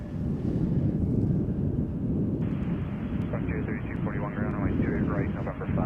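A jet airliner arriving at Chicago O'Hare from JFK roars steadily from a distance, a broad wind-like rumble that swells midway, with someone talking over it throughout.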